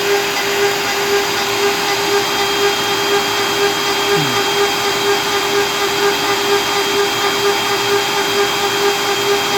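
An Onefinity CNC router cutting beveled edges runs as a loud, steady, close whine with a constant motor drone and no pauses.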